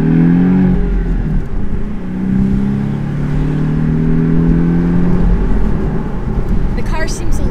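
A Porsche 718 Boxster's four-cylinder engine drones steadily and revs up in sport mode, its exhaust rumbling loud and close throughout.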